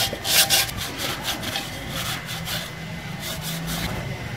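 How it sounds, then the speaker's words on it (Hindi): Sandpaper rubbed on a fan part during a solar AC/DC fan repair, giving a steady close scratchy rasp in quick repeated strokes, slightly louder at the start, with no talking. "अब हम इसे फिट करेंगे और उससे पहले हम इसमें रेगमाल लगा रहे हैं कि इसकी जो बावरी वगैरह है वो ख़त्म हो जाए"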